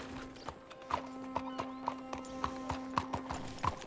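Horse hooves clip-clop at a steady walking rhythm in a Red Dead Redemption 2 game scene, evenly spaced hoofbeats over a low background hum with no voices.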